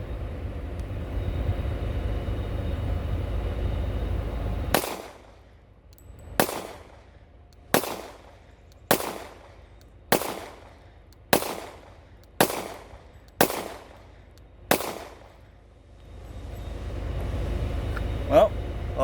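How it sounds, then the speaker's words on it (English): A Glock pistol fitted with a Guncrafter Industries .50 GI conversion slide fires about ten single heavy rounds at a slow, steady pace, each a sharp loud crack with a brief echo, outdoors over low wind noise. "Well, all those rounds fired fine."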